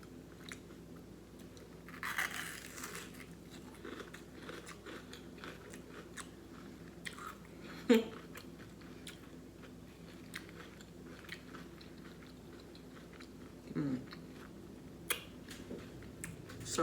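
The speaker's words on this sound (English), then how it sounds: "Can y'all hear the crunch?" Crunchy bites of a homemade breakfast taco in a cheese shell, a few sparse crisp crunches and chewing spread over a quiet stretch, close to the mic with no talking.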